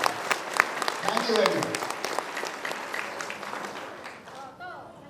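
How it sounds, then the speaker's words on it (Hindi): An audience at a Safe Shop seminar in Samastipur, Bihar, applauds. Dense clapping fills the room, then fades away as someone speaks briefly over it. "बजाओ विश्वास वाली एक तालियां, जोरदार तालियां"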